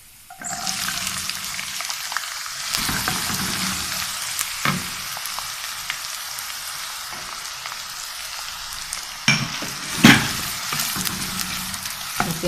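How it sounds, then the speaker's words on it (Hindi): Onion added to hot oil with garlic, frying with a strong continuous sizzle and occasional stirring scrapes and clatters, close and fairly loud. "और प्याज को भी थोड़ा सा भून लेते हैं।"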